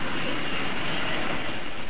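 A comedy sound effect of a vertical takeoff aircraft engine, from a 1960 comedy record: a loud, steady jet-like roar that holds constant throughout, with no talk over it.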